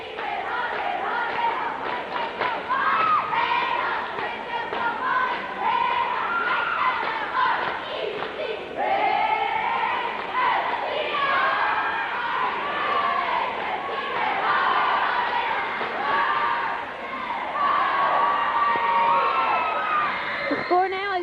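A small crowd at a 1988–89 high school girls' basketball game cheers and shouts continuously, with cheerleaders leading lively yells and whoops filling the gym throughout.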